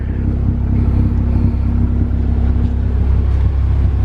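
A 9th-generation 2015 Honda Civic Si turbo runs nearby with a steady, deep engine drone and a faint uneven pulse, with no voices over it.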